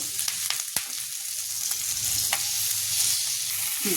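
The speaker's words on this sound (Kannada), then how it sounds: "ಈ ಎಣ್ಣೆಯಲ್ಲಿ ಫ್ರೈ ಮಾಡಬೇಕು ನೋಡಿ" Drumstick leaves frying in hot oil for a palya, a loud close steady sizzle with a few sharp stirring clicks early on, with no voices.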